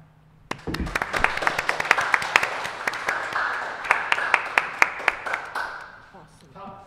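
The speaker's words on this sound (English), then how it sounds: "So she's to be applauded for that." A town hall audience applauds a supporter of firefighters. The clapping starts abruptly and stays steady and moderately loud for about five seconds, then thins and fades out, with a voice briefly audible at the very end.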